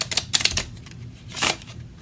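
Savings challenge cards being shuffled by hand, giving a quick run of crisp riffling flutters with a louder burst near the end, close and alone without speech.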